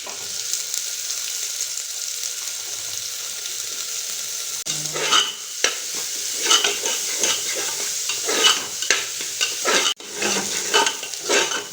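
Chopped onions hit a pan of frying potatoes for a home-cooked Mughlai dish. A quiet, steady sizzle swells into louder crackling, and scraping stirring strokes follow, close and with no talk.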